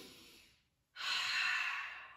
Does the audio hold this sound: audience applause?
no